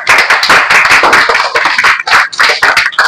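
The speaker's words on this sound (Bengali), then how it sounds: "ভেরি গুড, জোরে হাততালি।" Children clapping loudly in a classroom, a dense burst of many hands beating fast and unevenly, close and sustained with brief dips in the rhythm.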